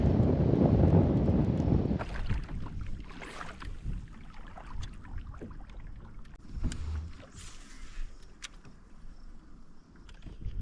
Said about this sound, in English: wind is getting nutty